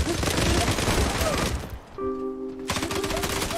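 Rapid bursts of gunfire from the online shooter game ZULA crackle loudly and densely, break off briefly, then resume as steady automatic fire with a sustained tonal hum underneath.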